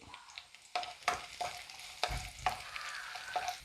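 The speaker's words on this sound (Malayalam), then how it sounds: "മൂത്ത് വരുമ്പോഴത്തേനും എന്താ 2 വറ്റൽമുളകും കൂടി ഇട്ട് കൊടുത്തു." Dried red chillies frying in a hot pan of oil while a beef dish is cooked, with steady sizzling and several sharp crackles and stirring scrapes, close and loud, no talking.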